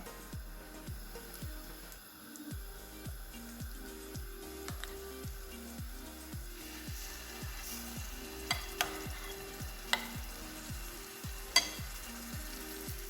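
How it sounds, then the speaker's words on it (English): Chicken sizzling in a pan, soft frying crackle with repeated scraping stirs and a few sharp clicks of a utensil, close and fairly quiet. "Now the chicken is frying really nice."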